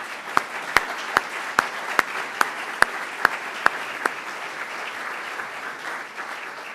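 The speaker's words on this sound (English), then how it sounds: "let's give our members that are working for nonprofits a big round of applause." Sharp, evenly spaced claps ring out close by at a club foundation celebration honoring nonprofit members, over a softer bed of scattered applause that carries on after the loud claps stop.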